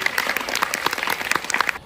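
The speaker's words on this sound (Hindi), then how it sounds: "एक बार फिर से तालियां हो जाए एसआर पे के लिए" A crowd at a Delhi Halloween horror festival claps in a short, lively burst, with distinct hand claps standing out close by over a steady background of clapping.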